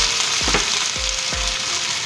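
Potatoes fry in a pan for Southern-style smothered fried potatoes, a steady broadband sizzle running throughout with a few low thumps of stirring, close and fairly loud, with no voices.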